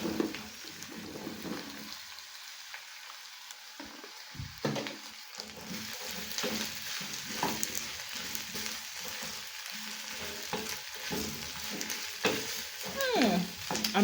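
Beef and garlic are added to browning onions in a stew pot, bringing bursts of sizzling and stirring scrapes. The frying swells and fades in uneven waves, close by, with a brief near-quiet stretch early on.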